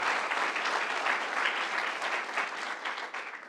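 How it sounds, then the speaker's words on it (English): Audience applause at a State of the City civic event, a steady dense clapping from a seated crowd that holds for several seconds and then tapers slightly at the end, with no voices over it. "if we could give them a round of applause"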